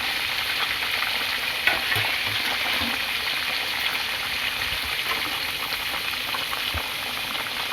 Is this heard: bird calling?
no